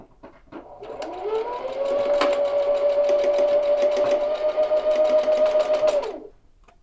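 A sewing machine stitches along the folded edge of a jacket in one continuous run, a close, steady whirring hum that rises to speed and stops after several seconds, with soft handling noises around it.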